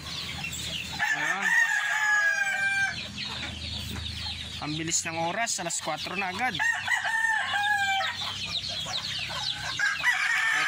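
Roosters crow and hens cluck nearby, repeated calls rising over someone talking throughout.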